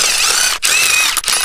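A ratchet socket set spins rapidly on the wheel bolts of a 2007-2014 GMC Yukon, Tahoe, Silverado or Sierra, making loud, close whirring clicks that break off in two short pauses.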